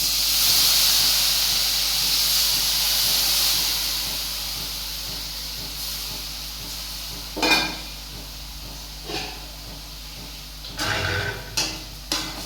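Hot pan of bitter gourd hissing and sizzling steadily after a light splash of water, with a few sharper bursts of spatter and stirring clatter later on, close and alone without any talk.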